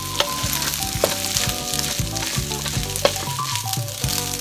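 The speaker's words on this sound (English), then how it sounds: "Break the clumps up and stir fry for about 5 minutes" Cooked rice with garlic and green onions stir-fries in a pan: a dense, continuous sizzle with rhythmic scraping strokes of the spatula and occasional sharp clicks, close up, with no talking.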